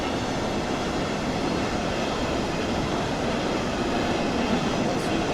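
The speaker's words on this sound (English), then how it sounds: "There's a train coming up at there, I can hear it." A train approaches a station in Train Sim World 2's Dresden route, a steady distant rumble of wheels on rails with faint metallic clatter and no talk.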